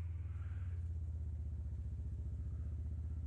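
Kawasaki Mule PRO-FXT 1000 utility vehicle, fully loaded, driving through swamp mud; a steady, loud low engine drone with a rhythmic pulsing chug runs throughout, with no talking.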